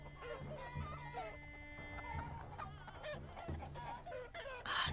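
Chicken clucking in the game Totally Accurate Battle Simulator, repeated clucks and squawks mixed into busy battle noise and game music, fairly faint under the dense sound, with a brief loud squawk near the end.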